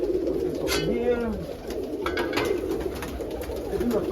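Pigeons in a coop coo in a steady low chorus close by, with a few rising calls standing out and soft rustling; a faint voice may be mixed in briefly.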